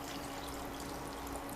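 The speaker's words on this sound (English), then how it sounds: "Add salt and a little bit more water." Water pours in a soft, steady stream into mushroom cream soup in a home kitchen, a faint continuous trickle throughout with no voices.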